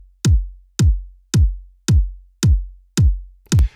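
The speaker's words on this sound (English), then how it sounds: "If we listen to the kick drum by itself," An electronic kick drum plays alone, six punchy hits at a steady mid-tempo pulse, each a sharp click falling into a deep booming tail, loud and dry, with a brief noisy burst at the end.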